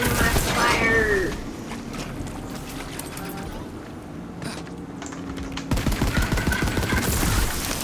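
Shotgun blasts in a video game crack in a cluster at the start and again near the end, with a quieter stretch between, under excited male chatter.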